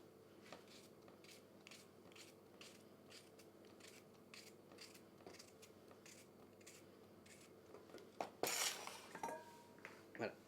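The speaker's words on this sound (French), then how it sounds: "nous allons couper de gros morceaux de concombre" A knife chops cucumber into large chunks on a board for gazpacho, giving a steady series of regular, fairly quiet cuts, then a louder clatter of utensils and dishes near the end.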